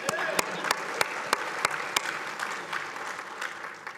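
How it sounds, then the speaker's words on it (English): An audience at the 10th Annual Leadership Conference applauds, with sharp individual claps standing out over a dense, moderately loud wash of clapping that holds steady throughout. "You can clap."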